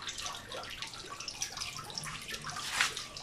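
Submersible filter circulating water in a crayfish tank, a steady close trickling and splashing with a brief louder gurgle near the end, no voices.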